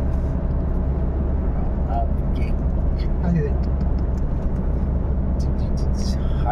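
Constant low engine and road rumble from a car driving on a long straight desert road at night, steady and close from inside, with scattered faint sounds and some talk in the background.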